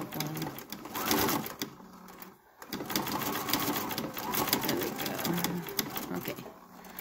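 A sewing machine stitches fabric in fast, steady mechanical runs, with one short pause partway through, while a person talks over the close, moderately quiet whirring.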